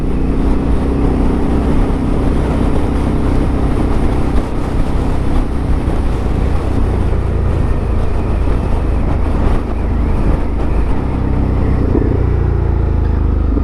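Ducati Multistrada 1260 S motorcycle on the move, a loud, continuous engine drone mixed with heavy wind rush throughout, steady and close with no talking.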